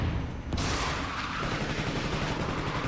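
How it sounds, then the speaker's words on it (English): Gunfire from the stealth action video game Counter Spy, a dense continuous burst of shots and impacts filling the whole stretch, loud and busy with game effects layered underneath. "Team ready! Gunfire!"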